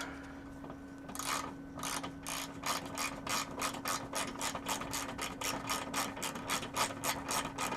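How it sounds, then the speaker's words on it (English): A socket ratchet clicks rapidly and steadily while turning a bolt on the rear bumper of a 986 Porsche Boxster, a close, crisp run of pawl clicks over a faint background hum. "you will want to use a socket, not an Allen 6"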